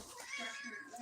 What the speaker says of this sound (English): Meow. Where you going?